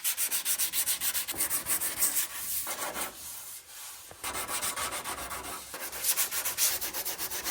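Rhythmic back-and-forth sanding on a dented truck body, a loud close scratchy rasp in steady strokes with brief pauses, no talking.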